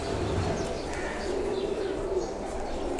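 Pigeons coo softly in a loft, low throaty burbling calls repeating over a busy background, with faint chirps and some indistinct voices nearby.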